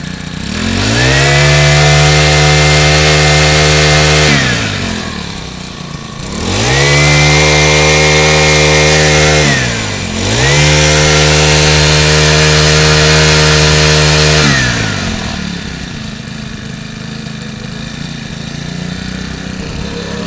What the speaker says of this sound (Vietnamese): Con máy cắt cỏ của Makita 4 kỳ rất là đẹp.